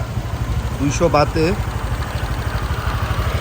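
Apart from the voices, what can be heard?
rented motorcycle engine running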